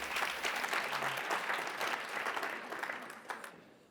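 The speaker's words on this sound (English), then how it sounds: "Give yourself a big round of applause that you're still here." Sustained applause from a large audience at a climate and planetary health talk, steady and dense throughout before thinning slightly at the end; no voices over it.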